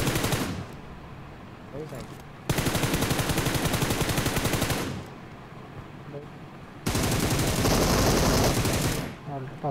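Automatic weapon fire in PUBG Mobile: two long, loud, rapid-fire bursts of a few seconds each, separated by quieter stretches of game ambience.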